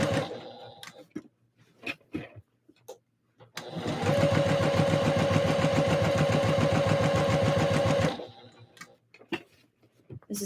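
A sewing machine runs a long steady burst of rapid stitching, gathering fabric on a Christmas dress, loud and continuous for about four seconds, framed by short clicks and handling noises before and after.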